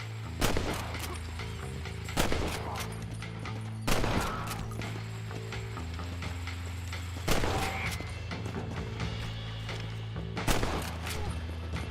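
Gunshots in the Western video game Red Dead Redemption during a bounty hunt: five sharp, loud reports at irregular intervals over steady in-game music and ambience.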